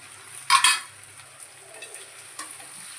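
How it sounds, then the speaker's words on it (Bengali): Jackfruit and potato being stir-fried in a pan with spices and salt, a soft steady sizzle broken by a louder burst of scraping or stirring near the start and a lighter clink later. "এটা এখন কষা হবে, এটা এঁচোড় আলুটা।"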